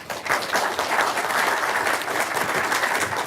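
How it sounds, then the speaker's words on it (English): Steady audience applause for a discussion panel at the close of a Hayden Center event, a continuous even wash of many hands clapping at moderate loudness with little voice over it. "One more round of applause for them."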